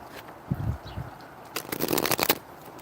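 Tarot cards are shuffled by hand in short papery bursts: a brief riffle, a pause, then a longer flurry of crisp snapping flutters, close and fairly loud, with no talking.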